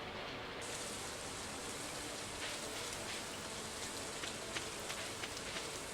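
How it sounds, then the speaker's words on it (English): Steady rain pours down on farm crops in a farming video game, a dense, even patter that holds constant throughout with no voices. "these crops are getting watered from the rain"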